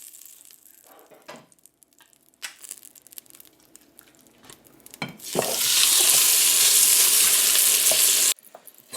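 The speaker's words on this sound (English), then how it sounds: "next thing is we brown our chops" Pork chops hit hot oil in a pressure cooker, and a loud steady sizzle flares up partway through and holds for about three seconds before cutting off, after some quieter stirring and clatter close by.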